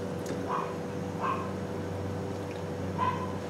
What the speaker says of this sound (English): my damn dogs are barking